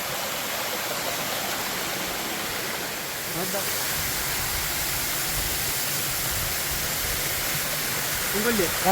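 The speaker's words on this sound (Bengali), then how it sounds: "উপর থেকে পানি পড়তেছে এখানে লেয়ার বাই লেয়ার এখান থেকে পড়তেছে" A waterfall on the Barabkunda trail in Sitakunda forest, water dropping down in layers, makes a steady, loud broadband rush from close by, with brief faint voices near the end.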